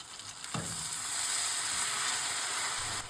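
Turmeric stirred into golden frying onions in a pan, a soft scrape followed by a steady hissing sizzle that holds close and even, with no talking.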